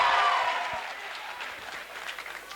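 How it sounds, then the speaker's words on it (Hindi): Audience applause for a schoolboy from Tagore Public School at the Rajasthan Film Festival 2022 in Jaipur, a dense burst of clapping that starts loud and gradually tapers to a thinner, steady patter. "Wow, a huge round of applause for the boy."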